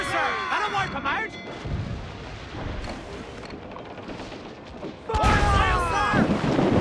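Ship cannons firing at a Royal Navy frigate in Assassin's Creed 4, deep booming blasts mixed with shouting crew and battle noise, a heavy volley hitting near the end.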